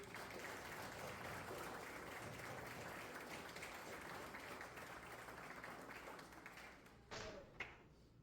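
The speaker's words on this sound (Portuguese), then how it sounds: "Vamos aplaudir, meus amados." A church congregation at an Easter service claps in a sustained, even burst of applause that fades out near the end, followed by a couple of taps.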